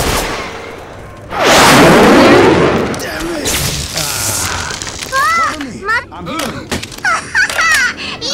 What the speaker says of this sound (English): Pipe bomb.